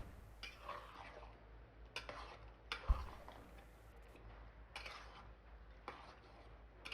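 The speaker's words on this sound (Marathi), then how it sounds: "वाटण केलं होतं ना कांदा खोबऱ्याचं ते मी याच्यामध्ये घालत आहे पुन्हा एकदा छान असं ढवळून घ्यायचं आहे" Ground onion-coconut paste is stirred into a pot, heard as quiet scrapes and a few soft clinks of the spoon against metal, with one sharp knock in the middle.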